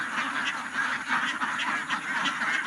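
A flock of domestic ducks on a duck farm quacks continuously and overlapping, a loud close chorus with no pauses.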